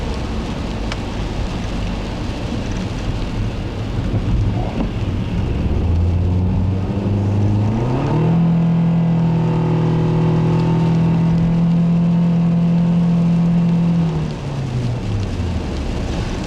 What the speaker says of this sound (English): let's try a couple more acceleration runs and see how this transmission responds